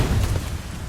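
A grenade goes off in the video game Starfield, a short, loud, booming burst with heavy low rumble.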